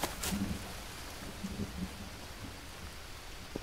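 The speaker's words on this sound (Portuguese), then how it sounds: "Olha a chuva, rapaz." Steady rainfall hisses through a jungle in the survival game Green Hell, with faint low rumbles of thunder and scattered drops, moderately loud and continuous without talk.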